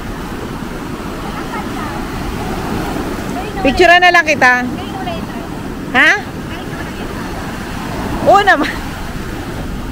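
Continuous roar of heavy surf and crashing waves fills the background while people chat briefly over it.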